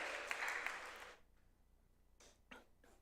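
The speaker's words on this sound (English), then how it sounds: "Clap it up for these brave souls." A conference audience on the main stage gives a short burst of clapping that stops after about a second, leaving a quiet room with a few faint sounds afterward.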